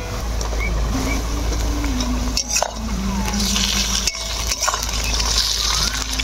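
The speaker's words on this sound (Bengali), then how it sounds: "এবার ওই তেলের মধ্যে দিয়ে দিব হচ্ছে পেঁয়াজ কুচি" Chopped onion sizzles steadily in hot oil for fig kofta, a loud continuous frying hiss close up, broken by a few clinks and stirring scrapes of a utensil in the pan.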